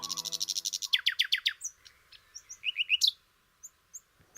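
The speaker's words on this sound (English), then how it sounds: "the nightingale." A nightingale sings a fast run of repeated bright notes, then switches to scattered whistles and chirps, fairly faint and alone.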